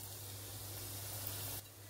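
Whole spices (cloves, star anise, cardamom, a cinnamon piece and fennel seeds) fry in hot oil for Madurai-style salna, giving a steady soft hiss and sizzle that cuts off near the end, faint and close.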